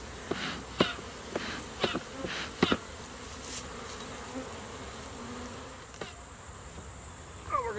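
Honey bees buzz around an open hive during a honey harvest, a soft steady drone close by with a few louder individual bees passing near, no talking.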